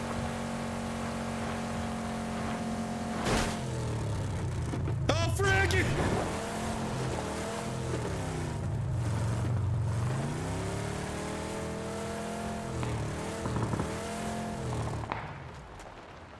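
A car in the PUBG battle royale on the Miramar desert map drives with a steady engine drone that revs and swells in pitch several times. A voice exclaims briefly partway through.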